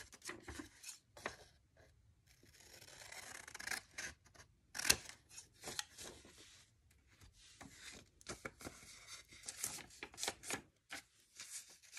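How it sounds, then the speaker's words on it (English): Scissors snip through the corner of a book page, soft close crisp cuts and paper rustling in a quiet space, intermittent and fairly faint. "And then I'll do the cutting of the corner first."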